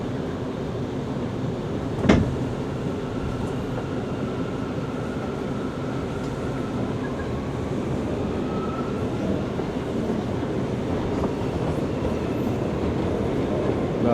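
A steady low rumble of a passenger train rolling along the tracks, with a sharp click or clunk early on and a faint whine running through.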